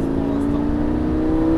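A Lamborghini Gallardo engine hums steadily with a low drone and slight rising pitch, close and continuous, as if accelerating.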